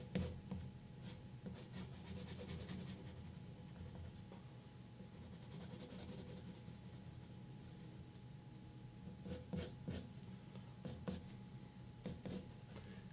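Pencil scratching steadily across paper while sketching the eyebrow of Sven, the reindeer, with continuous close rubbing strokes and a few sharper, quicker flicks toward the end.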